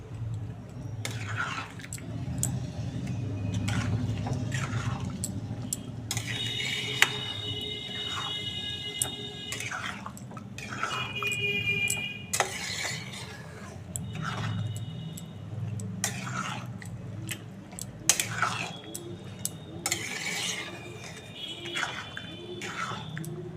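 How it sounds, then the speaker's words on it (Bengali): Boiled peas stirred in a pan while cooking vegetarian ghugni: irregular spatula scrapes and knocks over a constant low cooking hiss, close by, with a few faint ringing tones in the background. "এই যে এবার আমি সেদ্ধ করা মটরগুলো দিয়ে দেবো। মটরগুলো ভালো করে নেড়ে"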